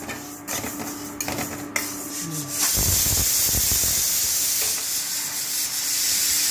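A kitchen pressure cooker cooking a meal gives a few light clatters, then bursts into a loud, sustained rush of hissing steam that continues to the end.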